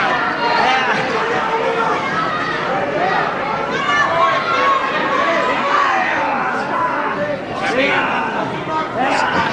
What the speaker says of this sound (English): The crowd really loved that.